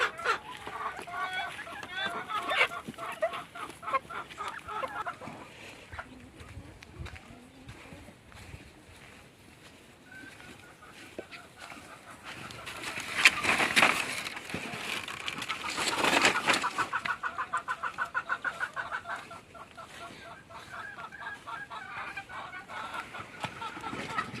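Free-range village hens cluck intermittently inside a chicken coop on a small poultry farm, with steady background noise, a brief louder burst of activity midway, and a voice speaking now and then.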